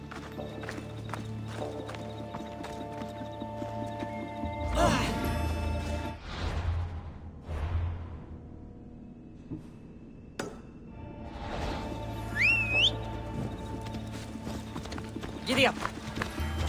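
Hooves clip-clop as a horse gallops in the game Assassin's Creed Odyssey, quiet rhythmic footfalls mixed with a whinny, a few game sound effects and speech.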